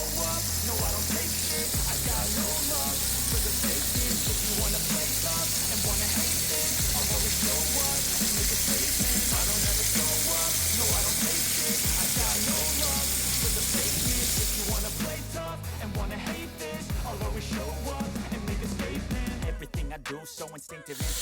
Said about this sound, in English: we still have about 10 minutes of frying left